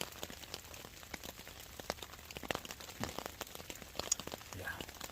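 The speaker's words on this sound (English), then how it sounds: "It's still raining." Freezing rain pattering steadily on a hammock tarp at a winter snow camp, with dense irregular close taps and a few louder individual drops landing throughout.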